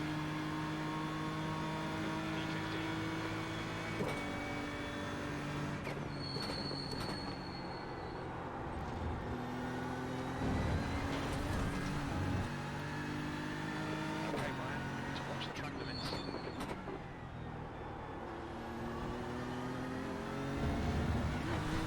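A GT3 race car engine in iRacing at Road America climbs in pitch through repeated upshifts, a continuous loud whine with tire and track noise.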